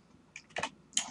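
Keystrokes on a computer keyboard while entering commands at a command line: a few scattered clicks, then a short cluster of taps and one final sharp click, close and fairly quiet with no talk.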